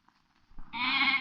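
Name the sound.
goats bleating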